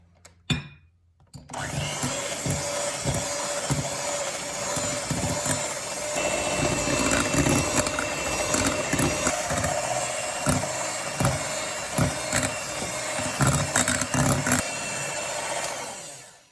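An electric mixer whips an egg mass for a sponge cake, a steady loud motor whirr running continuously for about fifteen seconds with slight fluctuations as the beaters move through the bowl, no talk over it.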